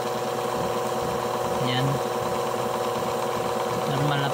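Washing machine gearbox running after a repair to a tight bushing, a steady motor hum and rattle with someone talking over it.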